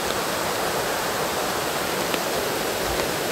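Waterfall deep in a Sunshine Coast rainforest, a steady dense rush of falling water that fills the whole sound without any break.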